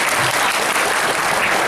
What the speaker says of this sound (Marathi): त्या लेकरासाठी टाळ्या बोलाय